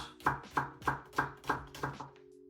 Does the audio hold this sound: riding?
no